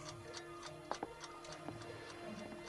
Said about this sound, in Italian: Che odo? Un tic-tac!